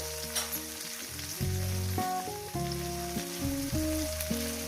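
Small river fish sizzle as they fry in hot oil, a soft continuous hiss heard under louder background music.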